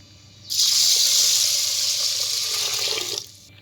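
Tap water gushes loudly and steadily over toor dal being rinsed in a vessel, starting abruptly and running for about three seconds before cutting off.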